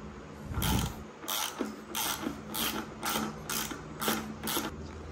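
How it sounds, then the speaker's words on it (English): Ratcheting wrench clicks in quick repeated bursts, about eight pulls, as nuts are bolted onto the cart of a Goped Sport scooter with a Zenoah G320 engine. The sound is close and fairly steady, with no talking. "Go ahead and start bolting this thing up."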